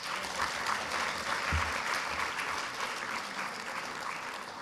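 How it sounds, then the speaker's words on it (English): Audience at a youth dialogue event applauding the teachers, a sustained, even roar of many hands clapping in a large hall, slightly distant and steady throughout. "A round of applause for our teachers."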